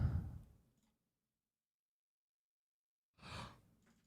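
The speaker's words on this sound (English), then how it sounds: "I apologize for yawning." A person yawning: a long, breathy exhale fading out, a pause of silence, then a second shorter breathy sigh, close and soft.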